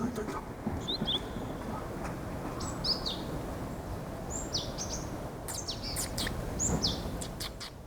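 A great tit calls from a neighbourhood alley near a persimmon tree, with scattered thin, high chirps and short whistled notes, fairly distant, over a steady rumble of outdoor background noise.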